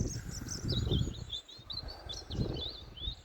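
Two grey crows calling around a garden and farm plot, harsh repeated caws carrying over steady outdoor noise and faint chirping, fairly distant with a short lull in the middle.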